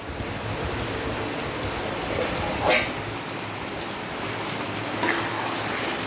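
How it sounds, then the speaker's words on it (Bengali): Heavy rain pours down in a steady, dense hiss, with a couple of brief louder splashes rising out of the constant downpour. "বৃষ্টি হচ্ছে বন্ধুরা, খুব জোরে বৃষ্টি নেমেছে"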